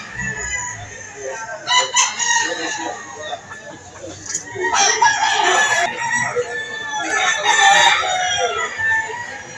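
Roosters, including Kelso gamecock stags, crowing repeatedly at a Lipa City, Batangas chicken market, several loud overlapping crows near and far with clucking between them.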